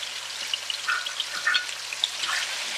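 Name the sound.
ginger garlic paste and cumin frying in desi ghee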